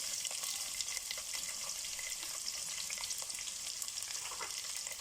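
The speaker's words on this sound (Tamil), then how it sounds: "ஆனியன்ஸ் போட்டுக்கலாம்." Onions fry in hot oil with cinnamon, cloves and cardamom for a vegetable biryani, giving a steady, close, crackling sizzle with occasional louder pops.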